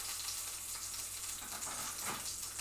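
Onions frying in a pan for a meat and potato pie, a steady close hiss of sizzling oil with a faint scrape of stirring near the end, alone with no voice.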